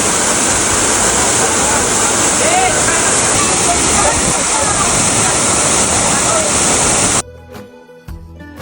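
A village waterfall at Merwewadi gives a loud, continuous roar of falling and splashing water that fills the scene, then cuts off abruptly near the end, leaving quieter scattered sounds.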